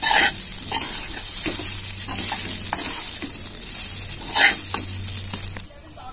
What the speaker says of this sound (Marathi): आता आपण त्याच्यामध्ये भिजवलेला साबुदाणा घालून घ्यायचा आहे आणि छान असं हलवून घ्यायचं आहे.